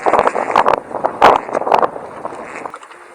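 Gusty wind sweeps across an offshore fishing kelong, a loud broadband rush with several sharp buffeting bursts against the microphone that eases and thins toward the end.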